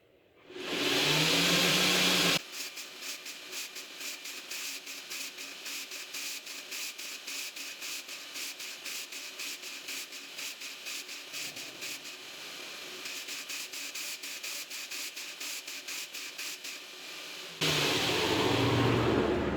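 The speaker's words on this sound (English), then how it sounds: "now we turn on the belt grinder and let her run" A belt grinder surface-grinds a knife blank of steel for a three-headed knife project, giving a steady, loud abrasive hiss with slight pulsing as the piece is pressed and worked, starting after a louder motor run-up and ending similarly.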